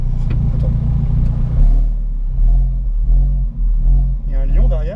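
An Alfa Romeo 4C sports car engine cranks and catches, settling into a deep, steady idle rumble, with a brief voice at the end.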